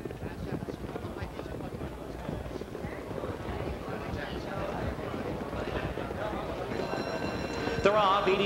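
Harness racing horses break from the start of a $40,000 open pace at the Meadowlands, giving a dense rumble of hoofbeats and wheels under a crowd and announcer, close and steady.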